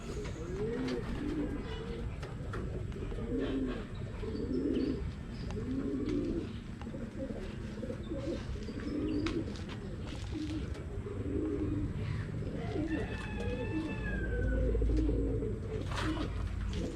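Pigeon cooing repeatedly at a loft, soft rhythmic low coos continuing throughout amid light outdoor background noise and occasional faint chirps.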